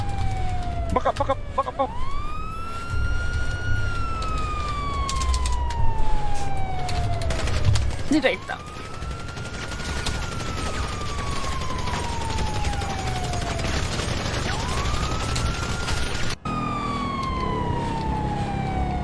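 Police car siren in a video game, wailing in long rising and falling sweeps that repeat steadily throughout, loud and close, with players' voices talking over it.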